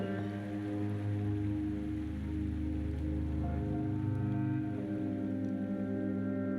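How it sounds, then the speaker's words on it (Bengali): Ground onion paste sizzles steadily in a hot pan while cooking for a prawn malai curry, a dense continuous crackling hiss that stays close and even throughout, with no talking. "পেঁয়াজ বাটা দিয়ে কিছুক্ষণ নাড়াচাড়া করে নেব আর কিছু সময় ভেজে নেব।"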